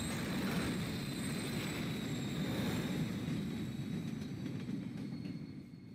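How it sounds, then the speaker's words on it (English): A train rumbles past in the Call of Duty Modern Warfare 3 game, a loud, steady low roar that holds for several seconds before easing slightly at the end, with no talking. "Where does this train come from?"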